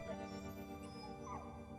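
Fox pups in the video game Endling whimpering and yipping, a few soft, high, brief whines over a quiet tonal game soundscape, faint and close.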